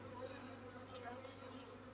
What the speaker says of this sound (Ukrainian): Там значна кількість бджіл.